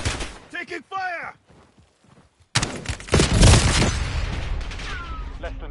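Battle royale video game gunfire: bursts of rapid shots and booming impacts fill the second half, loud and dense, after a spoken announcement with electronic chirps in the first part.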